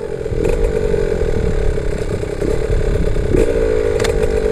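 A Yamaha YZ 65 motorcycle engine runs steadily and close by as the rider engages the clutch, its buzzing note shifting slightly now and then, with no one speaking.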